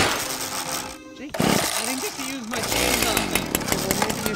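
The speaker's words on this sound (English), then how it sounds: "Jake, I didn't get to use my chainsaw" Chainsaw in a zombie survival video game, a harsh buzzing motor running loud and steady with a brief dip, revving under excited talk from several players.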